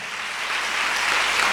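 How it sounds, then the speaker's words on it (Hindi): A church congregation claps together during a Sunday service at Hastings Chapel in Kolkata. The applause is a dense, steady wash that swells slightly toward the end, with no voices over it. "ताली बजा के उस परमेश्वर को धन्यवाद दे।"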